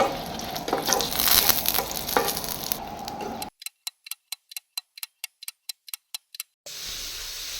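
Chicken masala roasts in oil with a loud, crackling sizzle for a few seconds, then cuts abruptly to a regular ticking clock-like beat before the frying returns.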